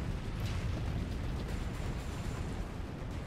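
A grenade blast in Resident Evil 3 during a fight with Nemesis, heard as a sustained, loud, broadband rumble with crackling debris that holds steady for a few seconds.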